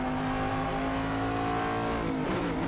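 A Corvette DP prototype race car at Silverstone GP in a racing video game, its engine droning loudly and continuously with a steady pitch, then shifting and dropping near the end, with no talk.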